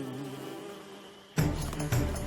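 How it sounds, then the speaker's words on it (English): Cartoon flash bees buzz in close, bursting in loudly partway through after a quiet start, with a second swell of droning near the end. "Flash bees!"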